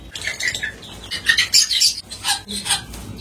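A colony of lovebirds in an aviary chattering and chirping together, dense overlapping high-pitched calls with a few wing flutters, close and lively throughout.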